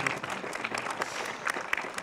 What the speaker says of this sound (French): On les applaudit à distance.